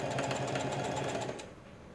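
A sewing machine runs steadily, stitching down a half-inch hem on fabric for an art tool roll, with a fast, even mechanical chatter that eases off near the end.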